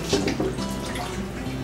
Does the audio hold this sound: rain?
no